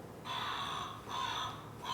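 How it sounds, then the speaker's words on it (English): A crow gives a few harsh, rasping caws, each about a second long with short gaps between them, moderately faint against a quiet outdoor background. "you probably recognize the call of a crow"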